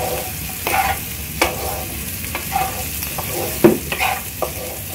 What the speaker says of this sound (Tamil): இப்போ எல்லாமே ஃப்ரை அடிச்சு இப்போ நம்ம அடுத்த சிக்கன் ஆட் பண்ணிக்கலாம்